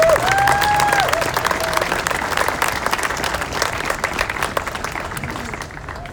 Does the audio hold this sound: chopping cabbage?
no